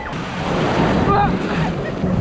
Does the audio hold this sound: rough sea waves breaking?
yes